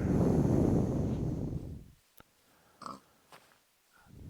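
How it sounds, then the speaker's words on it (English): Pigs in a Minecraft 1.17.1 hardcore survival world give a few short, separate oinks and grunts after a louder wash of noise fades out, with quiet gaps between the calls. "We can say hi to the pigs."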